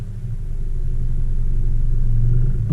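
Low, steady rumble of a 2017 Honda Civic with a solid rear engine mount, shuddering as the clutch starts to grab from a stop, with a low drone rising near the end.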